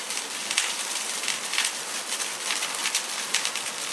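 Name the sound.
charcoal fire burning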